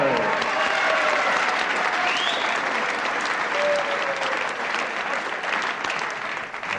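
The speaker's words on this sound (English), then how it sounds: "Everybody clapping here." Sustained applause fills a wrestling venue after an equalizing fall, a dense, even wash of clapping from the whole crowd and ringside, with faint voices and whistles mixed in underneath.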